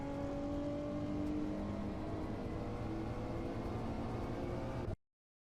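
A car held at full throttle in Assetto Corsa on the Tokachi circuit, its engine a steady, sustained drone with faint tonal whine, constant and unbroken until it cuts off abruptly.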